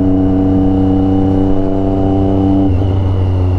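Triumph Daytona 675 sport motorcycle with a modified aftermarket exhaust, a steady loud engine drone while riding, shifting pitch slightly near the end as the revs change.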